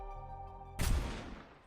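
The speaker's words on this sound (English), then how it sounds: "Snow White fires a rifle." A single rifle shot rings out in the NIKKE video game, a sharp loud crack with a decaying tail, following a sustained tonal music backdrop.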